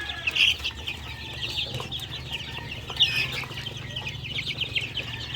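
Chicks and chickens in a farm coop, steady high cheeping and peeping with soft clucks and a brief wing flutter, close and continuous.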